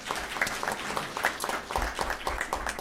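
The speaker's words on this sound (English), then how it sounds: "Clap." A small audience at a community meeting on policing and supportive housing claps briefly, a loose scattering of individual hand claps close by with a low thumping undertone.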